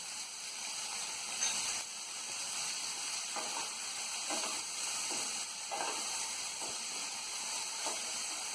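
Chopped carrots sizzle steadily in a pan of oil for a Bengali chholar dal with vegetables, a constant close hiss with faint stirring touches and no talking.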